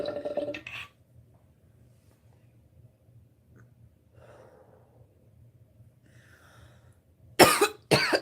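A woman gives a short burst of coughs, then quiet breathing, and ends with two sharp, harsh coughs.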